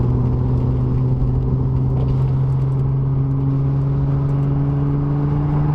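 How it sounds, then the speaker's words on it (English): A B5 Audi S4 fitted with a UUC catback exhaust sits revving, giving a loud, steady, deep engine drone with a strong low hum that holds at near distance throughout, with no talking over it. "It is really loud. This, I think, has the UUC catback, which I think is considered one of the most loud and desirable catbacks for the B5 platform."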